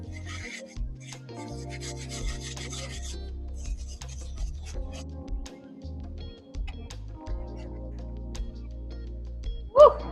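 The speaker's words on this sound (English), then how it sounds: "I can scrub the inside, the outside, the sides of my shoes." Shoes are scrubbed with a baking soda paste, with vinegar added, giving a steady rasping rub of bristles across the shoe surfaces that continues through the whole stretch, ending in a brief louder knock.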